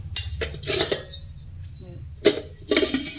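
Old antique Chettinad stacking metal pots and vessels clatter and clink as they are handled and stacked, in a few separate bursts with quiet gaps between.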